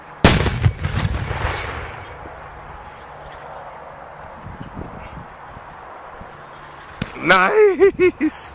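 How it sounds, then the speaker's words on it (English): A 2014 Fourth of July fireworks show opens with a loud close explosion and crackling bursts, fades to distant rumbling thuds, then a voice counts down over renewed booms. "2014 fireworks show."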